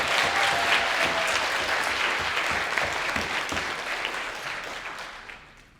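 An audience at a graduation celebration claps steadily, a loud, dense round of applause that slowly fades over about six seconds.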